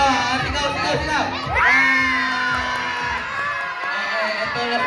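Children and a crowd shouting and cheering at a party, a loud, continuous wash of excited voices and whoops with a rising shriek partway through.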